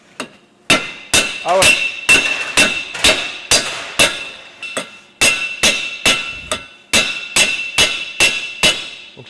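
Repeated hammer blows on a copper sheet being shaped by a boilermaker, roughly seventeen sharp ringing metallic strikes in a steady rhythm, close and loud, with brief speech in between.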